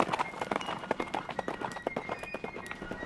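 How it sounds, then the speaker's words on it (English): Rapid hoofbeats of a horse galloping down a stone stairway clatter in an uneven, hurried rhythm, sharp clip-clop strikes on hard stone, fairly close. "rode his horse down a stone stairway"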